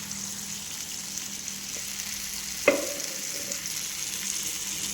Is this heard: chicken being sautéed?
yes